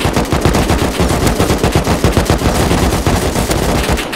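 Rapid automatic gunfire in a multiplayer shooter video game rattles on in loud, continuous bursts with no pauses, several weapons overlapping up close.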